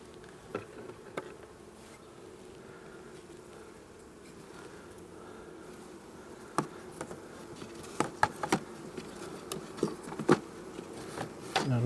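Honey bees buzz around an open beehive during an inspection, a faint, continuous hum with individual bees droning past the microphone, scattered clicks and knocks of hive handling, and brief speech.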